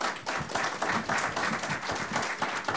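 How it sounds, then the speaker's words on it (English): A studio audience breaks into steady, dense applause for a public television postcards production team, sustained clapping filling the moment at moderate loudness with no talk over it. "Give them a round of applause."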